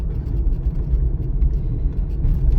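A car cruises along a city avenue at about 40 km/h during a driving exam, giving a steady, close low engine and road rumble with tyre noise that holds even throughout.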